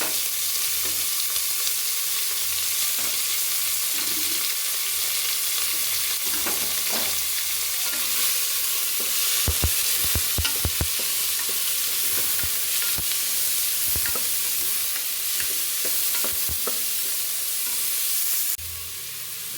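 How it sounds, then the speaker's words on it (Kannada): Sliced onions fry in a pan while being stirred, making a continuous close hiss with scattered scraping clicks from the spatula. No one speaks, and the sizzle drops slightly near the end. "ಈಗ ನಾನು ಈರುಳ್ಳಿನ ಹಾಕ್ಕೊಳ್ತಾ ಇದ್ದೀನಿ"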